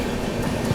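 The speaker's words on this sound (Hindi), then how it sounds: "यहाँ पर अपनी ट्रेन ने भी जो है रफ्तार बना ली है बढ़िया।" Inside a 2AC coach of the Grand Trunk Express between Chennai Central and New Delhi, the train runs at speed with a steady, close rumble of wheels and carriage noise.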